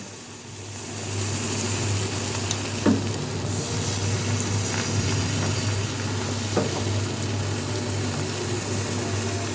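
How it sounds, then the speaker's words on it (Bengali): Patishapta batter for a Bengali sweet crepe cooks in an oiled kadai, a soft even sizzle over a constant low hum, with a couple of faint clinks. "এবার আমি কড়াইতে এই যেটা গুলে রেখেছিলাম সেটা দিয়ে দেবো"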